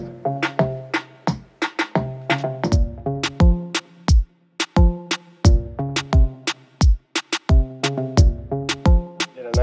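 A reggaeton drum beat programmed in FL Studio plays crisp, punchy hits with tuned, bassy kicks in a syncopated, bouncing pattern. The beat is loud and upfront, with short gaps between hits and no talking.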